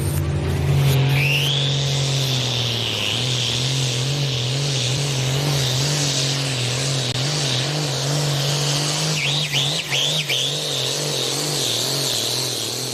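A pulling tractor at a truck and tractor pull roars close by, a loud, sustained engine drone that wavers rhythmically for the whole pass and then rises into a sharper, higher whine near the end.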